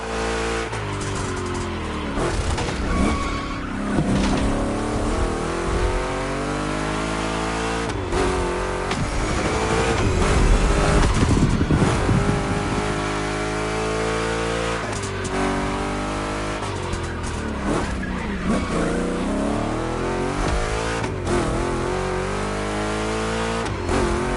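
Two Chevy big-block cars racing in The Crew Motorfest: loud engines rev and climb through gears in repeated rising sweeps, swelling into a heavy roar midway, with occasional tire noise and no talk.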